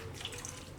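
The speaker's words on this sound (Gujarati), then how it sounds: "અને લીલા ધાણા આપણે એ જ રીતે ધોઈ લેવું." Water runs steadily from a kitchen tap to wash fresh mint and coriander, a soft continuous splashing stream heard alone and fairly faint.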